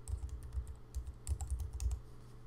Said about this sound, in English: all I have to do here is type the URL of my website